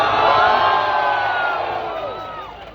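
Large protest crowd at Jantar Mantar cheering and shouting together, a loud sustained roar of many voices that slowly fades over a few seconds.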